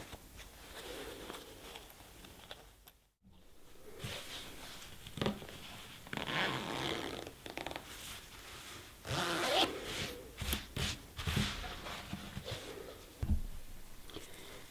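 A zipper on a felt pillow cover is worked by hand close up, with repeated short rasping pulls and rustling handling in irregular bursts, no talking.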